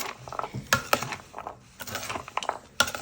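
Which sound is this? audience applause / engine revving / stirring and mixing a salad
stirring and mixing a salad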